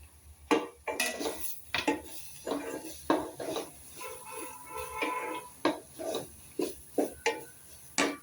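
Garlic is added to a pan for basmati pulao and stirred, a quiet series of metallic spoon scrapes and clinks against cookware in an irregular rhythm, with faint background sizzle.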